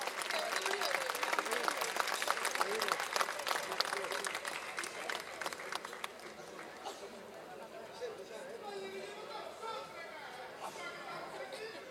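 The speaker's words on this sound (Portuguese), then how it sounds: "Um grande aplauso para o Centro Cultural Ponte Velha" An audience claps warmly for a Galician folk dance group at a cultural performance: dense applause builds, then thins into scattered clapping and crowd chatter.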